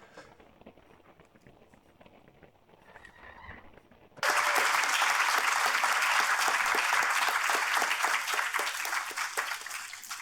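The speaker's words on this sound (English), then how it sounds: "I do believe a round of applause is in order for" Applause from a conference audience greeting Dr. Hubner at a health and freedom event in the European Parliament, breaking out suddenly after a few quiet seconds of room noise and holding loud and dense to the end.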